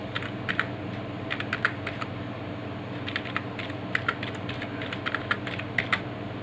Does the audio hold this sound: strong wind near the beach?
no